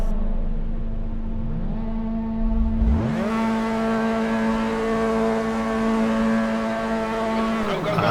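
Mazda MX5 Cup race cars in Assetto Corsa at a race start, the engines idling then surging loudly as revs climb sharply around the launch and hold a strong, steady high drone.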